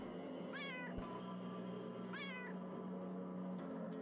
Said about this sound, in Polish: A, jest tu kotek! Zobaczcie, kotek!